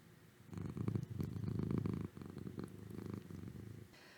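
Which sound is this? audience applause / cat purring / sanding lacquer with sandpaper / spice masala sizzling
cat purring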